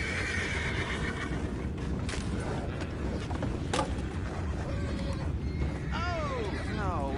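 Horses neigh and whinny in Red Dead Redemption 2, a descending whinny near the end over a constant game ambience, with speech mixed in.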